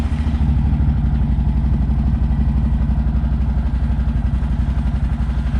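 CF Moto Cforce 800XC ATV engine running steadily, a close, loud and evenly pulsing mid-range chug with no talk over it.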